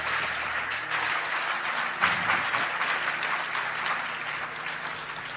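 A church audience applauds a music group, a steady wash of clapping from a sizable crowd, sustained and fairly loud throughout with a slight swell partway and no voices standing out.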